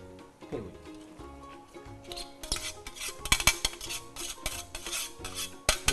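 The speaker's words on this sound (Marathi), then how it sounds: "ठेवलेली मटकी आपण याच्यामध्ये टाकून थोडस परतून घेऊया" A metal spoon scrapes and clinks against a pan while soaked moth beans are stirred and sautéed for Kolhapuri misal, quiet at first, then building into busier rhythmic scraping and clatter.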